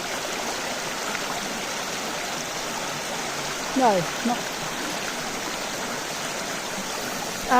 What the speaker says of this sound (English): And I do like the river. Like it's soothing really.